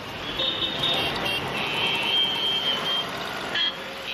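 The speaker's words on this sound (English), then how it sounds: "They say that in Bangalore, every second person writes code, and everybody honks at the traffic lights." Car horns honking in busy Bangalore traffic, several high tonal beeps and blasts overlapping over a dense rumble of engines, moderately close and continuous.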